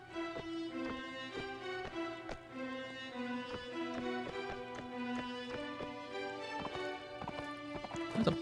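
Horse hooves clip-clop in a steady rapid gallop through a Mount & Blade Warband battlefield scene, with a neigh rising among the beats under continuous sustained tones.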